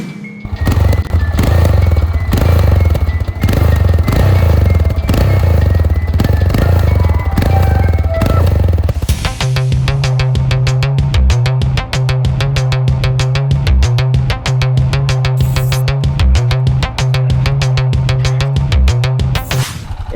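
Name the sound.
Yamaha XT 660R motorcycle riding at top speed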